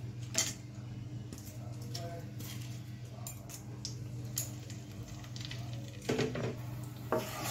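Whole spices (cardamom, cloves, cinnamon, bay leaves and a dried red chilli) frying in hot oil for a vegetarian potato and paneer dish, with a steady low sizzle, occasional utensil clinks and stirring scrapes throughout.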